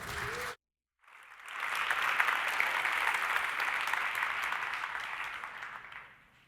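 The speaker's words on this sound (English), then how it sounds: "let's give him a big round of applause" After a brief voice and a short gap, a conference audience at PyCon 2014 breaks into sustained applause, a dense even clatter that holds for about five seconds before fading out.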